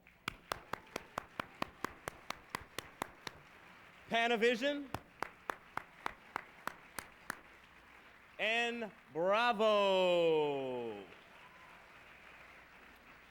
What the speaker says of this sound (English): ladies and gentlemen, a round of applause for Kodak